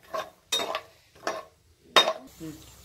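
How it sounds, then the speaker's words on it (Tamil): Cashew nuts being fried and stirred in oil, heard as four separate scraping, clinking spoon strokes against the pan, close up, with short quiet gaps between them and a faint sizzle at the end. "நல்லா இதை இப்போ வறுக்கணும் இப்போ கொஞ்ச நேரத்துக்கு நல்லா வறுக்கணும் இந்த எண்ணெயில்"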